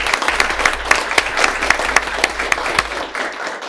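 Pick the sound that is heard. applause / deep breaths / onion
applause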